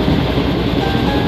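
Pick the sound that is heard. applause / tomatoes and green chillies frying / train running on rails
train running on rails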